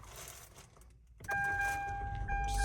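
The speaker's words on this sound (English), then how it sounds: "So let's start the engine" A 2026 Mitsubishi Xpander GLS starts up: quiet cabin rustling and a brief hush, then the engine catches with a sudden rise into a steady idle hum joined by a faint high chime tone.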